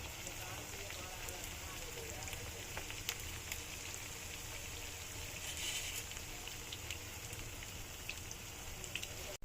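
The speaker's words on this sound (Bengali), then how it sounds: "এখন ভেজে নিচ্ছি" Vegetable fritters, cauliflower among the vegetables, fry in a pan with a steady, dense sizzle and crackle that runs throughout, with a few sharper pops standing out.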